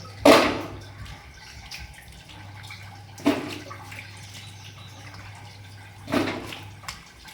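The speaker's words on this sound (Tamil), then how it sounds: "இப்போ நல்லா வந்து வாஷ் பண்ணி பக்கத்தில் ஒரு அரிப்பு வச்சுருக்கோம்" Chopped vegetables for a Nagercoil-style tiffin sambar are washed in water, giving three brief splashy sloshes about three seconds apart over a faint steady hum.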